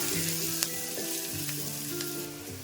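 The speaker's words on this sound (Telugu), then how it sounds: "నూనె వేడెక్కిన తర్వాత మనం ఒక ఉల్లిపాయ అండి కట్ చేసుకొని వేసుకోవాలి ఒక పచ్చిమిర్చి వేసుకోవాలి అలాగే ఇందులో బాగా మనం వేయించుకోవాలన్నమాట" Chopped onion and green chili frying in hot oil for a simple curry, a dense continuous sizzle close up with a few faint utensil taps, no voices.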